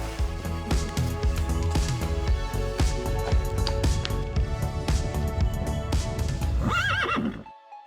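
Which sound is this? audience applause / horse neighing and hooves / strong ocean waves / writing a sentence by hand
horse neighing and hooves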